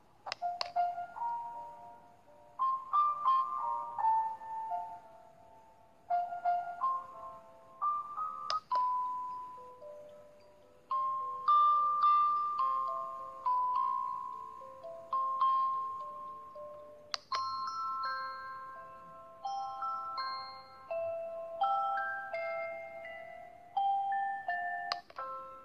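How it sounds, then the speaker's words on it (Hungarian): A Zazu sleep-aid plush toy for babies plays a gentle lullaby, a soft music-box-like melody of chiming tones in repeating phrases, clear and alone without talk. "4 féle altató dal és lágyan dalító zene közül is választhatsz."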